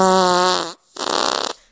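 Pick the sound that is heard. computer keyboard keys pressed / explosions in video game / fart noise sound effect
fart noise sound effect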